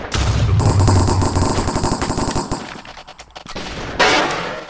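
Rapid gunfire from a Minecraft Hive Cops vs Crims match, a loud, dense burst of repeated shots lasting several seconds, then thinning out before a final sharp blast near the end.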